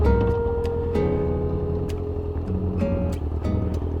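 A first motorcycle idles and warms up, its engine holding a steady, even rumble with a low droning tone that shifts slightly in pitch throughout.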